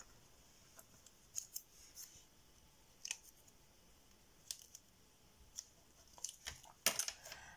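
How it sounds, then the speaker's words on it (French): Scissors snip through paper for a scrapbooking shaker pouch, giving a series of sharp, close, crisp cuts spaced irregularly, with a quicker cluster of snips near the end. "J'ai découpé un fond dans du papier."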